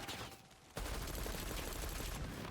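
Gunfire in Call of Duty Warzone, sustained rapid shots erupting after a brief quiet stretch and continuing loud and dense as a fusillade, with no talk.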